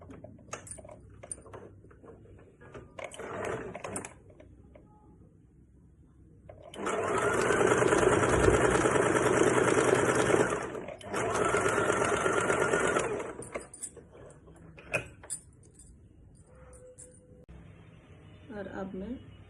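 A sewing machine stitches a patti strip onto a princess cut blouse, running in two loud sustained bursts of steady whirring separated by a brief pause, with quieter handling and clicks before and after.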